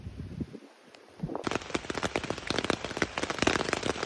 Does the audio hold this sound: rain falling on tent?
yes